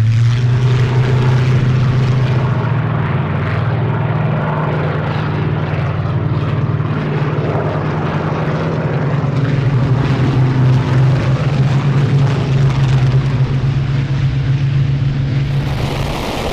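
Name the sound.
warbird aircraft with Rolls-Royce Merlin and Griffon engines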